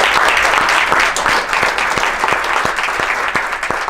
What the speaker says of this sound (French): j'aimerais ça qu'on donne une bonne main d'applaudissement à toute l'équipe d'Argenteuil en blues